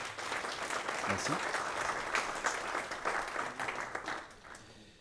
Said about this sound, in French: Donc, on peut les applaudir, je pense, déjà.